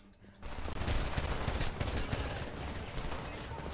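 Gunfire from the Homefront video game: after a brief quiet moment, a loud, dense fusillade of rapid shots erupts and continues steadily for about three seconds.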